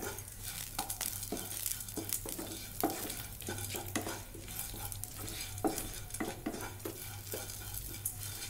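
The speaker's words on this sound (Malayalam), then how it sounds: "തേങ്ങ ഒന്ന് ചൂടാക്കി കിട്ടട്ടെ." Grated coconut with curry leaves is roasted over a low flame in a pan for a coriander seed chutney, a steady soft sizzle broken by repeated scraping stirs of a spatula against the pan.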